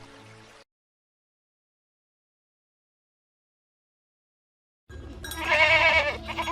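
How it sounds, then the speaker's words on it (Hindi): Sheep and goats being herded to graze on a hillside bleat loudly in a dense, close burst near the end, following a short sound at the start and a long silence. "पहाड़ी के दूसरी तरफ एक चरवाहा आदित्य अपनी भेड़ बकरियां चरा रहा था"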